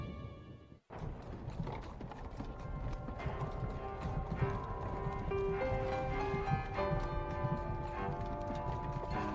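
In the video game Alice: Madness Returns, horse hooves clip-clop steadily after a brief dropout, mixed with mechanical ratcheting and sustained tonal notes, moderately loud and continuous.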